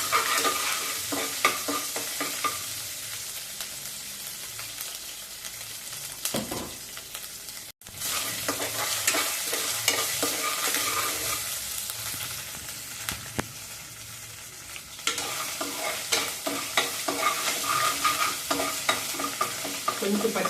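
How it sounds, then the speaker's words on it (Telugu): Ginger garlic paste fries in hot oil while being stirred in a pan for mutton fry, giving a steady close sizzle with repeated scraping strokes of the spoon throughout and a brief break midway. "దీంట్లో 1 స్పూన్ అల్లం వెల్లుల్లి పేస్ట్, కొంచెం దోరగా వేపుదాము ఆయిల్లో."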